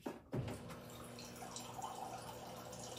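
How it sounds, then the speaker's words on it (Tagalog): Water poured into a cooking pot while preparing green crabs, a soft trickling and splashing stream after a brief knock, steady and fairly faint up close. "Tapos lagyan na natin ng tubig."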